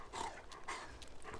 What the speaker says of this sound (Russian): Собака подавилась, походу.